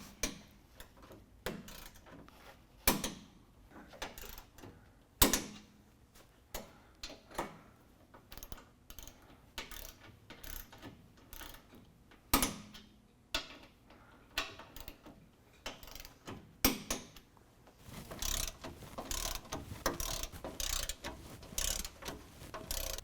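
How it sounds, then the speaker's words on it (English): Skid plate bolts on a 2016 Chevy Silverado 1500 are tightened with a torque wrench, producing scattered close, sharp clicks and ratcheting ticks at an irregular pace, with a denser burst of mechanical clatter near the end and no voices. "Now we're going to set the torque on the skid plate bolts to 65 foot-pounds."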